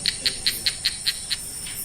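A frog native to Singapore calls in a steady series of about seven short, high chirping notes at even intervals, clear over a constant background hiss.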